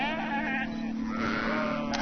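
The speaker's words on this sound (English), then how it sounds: "There's a whole herd of lambs." A herd of lambs in open green countryside, bleating steadily and fairly close together, with talk over them.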